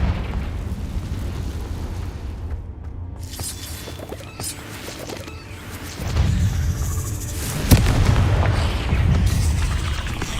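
A Confringo blasting curse explodes inside a cave in Hogwarts Legacy: booming bursts over a low rumble, one sharp heavy hit near the end, with echoing debris and roar lingering afterward.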